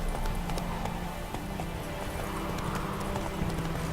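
Horse hooves galloping in the video game The Witcher 3: Wild Hunt – Blood and Wine, a steady, close clip-clop rhythm over a dense noisy game background, with no talk.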